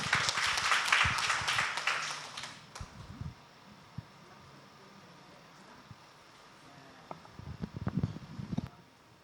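Applause from a congregation at a ladies worship service, dense and loud at first, then fading into a quiet room before scattered claps and knocks return near the end.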